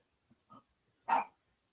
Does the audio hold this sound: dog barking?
yes